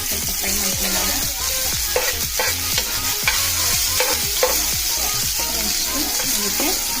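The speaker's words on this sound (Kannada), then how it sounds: "ಸೊ ಇವಾಗ ಎಣ್ಣೆ ಕಾಯ್ದಿದೆ, ಇದಕ್ಕೆ ಹಸಿಮೆಣಸಿನಕಾಯಿ ಹಾಕ್ಕೊಂಡು ಸ್ವಲ್ಪ ಫ್ರೈ ಮಾಡ್ಕೊಳ್ಳೋಣ." Green chilies fry in hot oil with a continuous close sizzle, broken up by repeated scraping stirs of a spoon against the pan.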